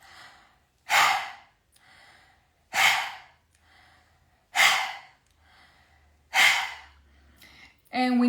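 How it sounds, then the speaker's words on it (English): Deep breathing exercise, inhaling and exhaling through the mouth: four strong, evenly paced breaths about two seconds apart, close and breathy, with softer breath sounds between them. "push out as you inhale from the mouth. Exhale from the mouth and pull the belly button in."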